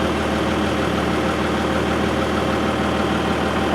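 A farm tractor engine idles with a continuous, even, low rumbling drone close by, steady throughout with no voices.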